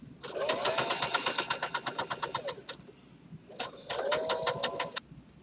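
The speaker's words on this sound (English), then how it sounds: "now that you've finished sewing all the way around the edge" A sewing machine with a lengthened stitch sews a guide stitch around a skirt hem in two close, rapid bursts of rhythmic needle chatter, separated by a brief pause.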